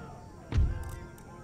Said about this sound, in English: I want the canister to fire right over there.